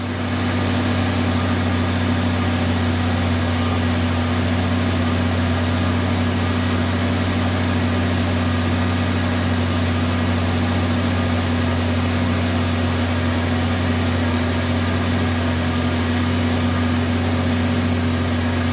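A Toyota Corolla engine idles while warming up, a steady, loud low hum with an even tone and no change in pitch, heard alone without talk.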